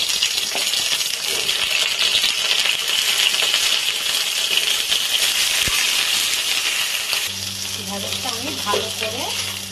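Okra (ladies' fingers) fries in hot oil in a kadai, giving a steady close sizzle with a soft crackle throughout. A brief voice rises over it near the end.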